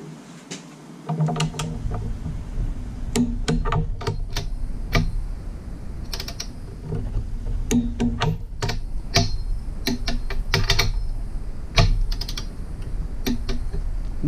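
Rapid ratcheting clicks from a torque wrench tightening bolts on a Jeep TJ during a rear main seal job, steady clicking bursts throughout at close range, with no talk.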